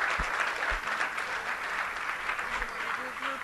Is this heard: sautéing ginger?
no